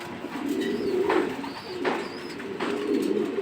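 A young 2023 racing homing pigeon cock gives several low, rolling coos in repeated swells, moderately close against a constant background hum.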